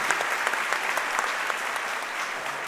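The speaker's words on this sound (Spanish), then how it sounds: "Den aplauso." An audience at a panel on conflict-prevention policy breaks into steady, even applause that fills the whole stretch at a moderate level, with no voices standing out.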